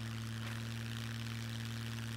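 A plane's engine drones steadily and faintly in the survival game Scum, a low constant hum with no talk over it.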